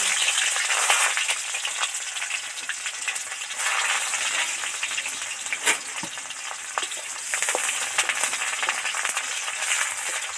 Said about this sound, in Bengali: কড়ার মধ্যে অল্প একটুখানি পেঁয়াজের টুকরো দিয়ে দিচ্ছি।